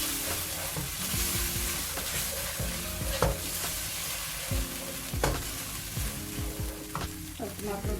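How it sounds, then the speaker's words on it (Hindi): Tomato paste frying with spices in a pan for a Punjabi spinach saag, a steady close sizzle broken by repeated scraping stirs and occasional sharp clinks of a spoon against the pan. "और टमाटरों के साथ इसको मैं 2 से 3 मिनट के लिए भून लूँगी।"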